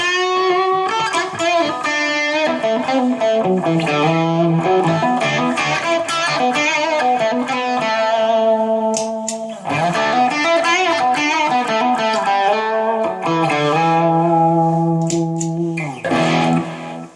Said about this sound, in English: Let's go to a little bit of distortion.